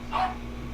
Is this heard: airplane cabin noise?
no